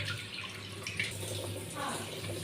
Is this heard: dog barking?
no